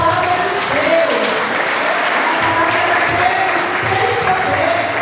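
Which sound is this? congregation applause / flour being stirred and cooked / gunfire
congregation applause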